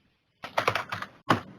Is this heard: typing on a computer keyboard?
yes